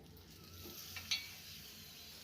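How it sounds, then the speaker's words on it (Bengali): Onion paratha frying in a pan and being flipped, a faint steady sizzle with one soft clink partway through. "যে কোনো পরাটা উল্টে পাল্টে ভালো করে পরাটা ভেজে নিতে হবে"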